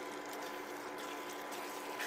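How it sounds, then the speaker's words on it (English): Water trickles and gushes steadily as it is poured into gravy for a homemade shepherd's pie, a continuous close pouring sound with no talk over it. "Put a little bit more of that water."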